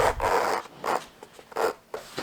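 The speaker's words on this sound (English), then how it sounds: "Zip up your zipper." A zipper on a leather dopp kit is pulled in several quick rasping strokes with short pauses between, close and fairly loud.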